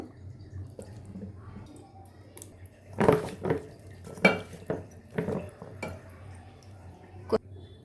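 Spice paste of ginger-garlic, coriander powder, pepper, chili, turmeric and salt is mixed with fish pieces in a bowl, giving close, irregular wet squelches and sharp clinks over faint background hum.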